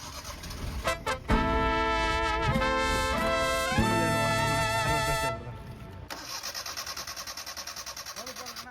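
A motorcycle is kick-started on a street in Bangalore, with a couple of kicks followed by the engine catching and revving loudly with a tonal whine, then settling into a steady idle.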